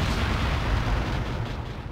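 A dense, rumbling explosion blast in Hidden & Dangerous Deluxe, heavy low booming that stays loud and continuous throughout, tapering slightly near the end.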